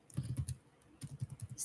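Soft, quick clicks of typing on a poor-quality computer keyboard come in two short bursts, close but quiet, with a brief pause between them.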